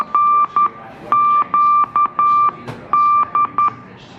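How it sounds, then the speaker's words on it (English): A run of clear electronic emergency signal tones, long and short beeps in a repeating pattern, loud and close with faint background noise between them, at a Titanic experience attraction. "This is emergency signal."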